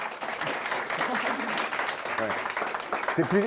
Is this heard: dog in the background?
no